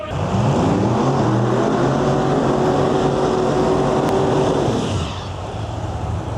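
A Cutlass street car with a new paint job roars nearby at a no prep drag race, its engine a loud, sustained snarl whose pitch climbs steadily before cutting off sharply near the end, with no talk.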